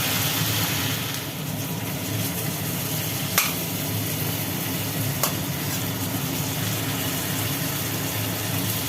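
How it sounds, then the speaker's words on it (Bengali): Potatoes and onions with salt fry in a pan with a steady low hiss and faint background hum, broken by two brief sharp spatula scrapes spaced a couple of seconds apart; no one talks. "পেঁয়াজ আলুটাকে নাড়াচাড়া করে একটু ভেজে নেওয়া হবে"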